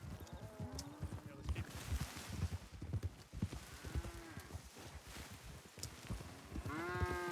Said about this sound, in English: You hear the cow milling.